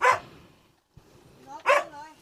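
A dog at a rural home in Kanchanaburi gives two sharp, close barks separated by a short pause, loud and alone without talk.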